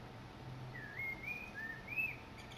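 Outside, a wild bird gives a brief warbling phrase of rising and falling whistled notes. It is soft and somewhat distant against steady low background noise.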